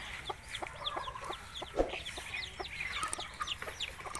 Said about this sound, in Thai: เพิ่งได้ลูกไก่นี่ครับ